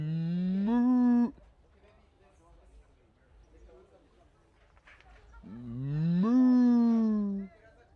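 Cows on a cow farm give two long, loud, close moos, one at the start and one near the end, with quiet farmyard background between them.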